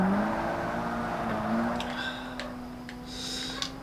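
An amateur hatchback race in Forza Motorsport (2005): a car engine drones steadily with a rising pitch, and faint ticks and tire squeals come in near the end.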